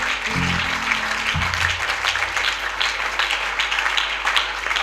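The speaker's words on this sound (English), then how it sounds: "If you want to clap, clap for Jesus." Church congregation clapping during an evangelistic service, a steady dense applause throughout, with a brief low hum or tone near the start underneath.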